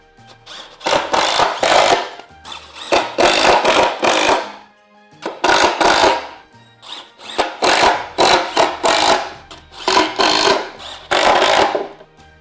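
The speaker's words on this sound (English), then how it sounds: "I'm going to add a couple screws down each slat to hold them in place" A power driver runs screws into wooden pallet slats in repeated whirring bursts, several loud runs of one to two seconds each with short pauses between them, close to the listener, and no voices.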